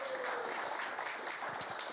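A church congregation applauds a newly unveiled logo at an annual meeting. Brief, soft clapping spreads across the room for under two seconds, with a faint voice under it.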